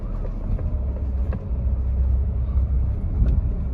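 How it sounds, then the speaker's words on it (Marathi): A tempo van's engine rumbles low and steady while reversing after getting stuck, close by and continuous, with faint clicks and knocks on top. "गाडी अटकली, रिवर्स घेऊ दे."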